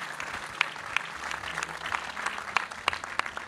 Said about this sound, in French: Merci Florence, on peut l'applaudir.